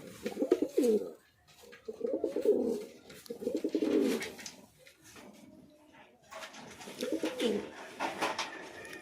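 Fancy pigeons in a small loft coo in repeated low, throaty bursts, several rounds in quick succession at close range, with some rustling and faint background noise between calls.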